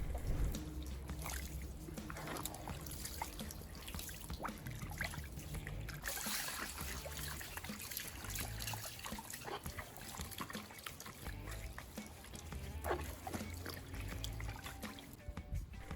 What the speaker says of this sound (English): rinse the blanket with your hands.